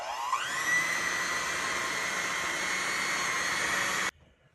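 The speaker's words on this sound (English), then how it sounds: "you wanna grab your mixer, your whisk, and you wanna mix this on medium till it's all whipped up" Electric hand mixer with whisk attachment whipping Cool Whip on medium speed, a steady high whine that ramps up at the start, holds evenly and cuts off abruptly near the end.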